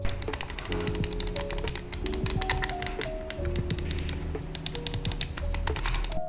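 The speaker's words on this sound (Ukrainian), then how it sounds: "Свічі Omron не найтихіші, але дуже приємні. Можете самі послухати звук." Omron switches in a gaming mouse click in quick, irregular bursts of sharp taps, close and fairly loud, with a steady tonal background running underneath.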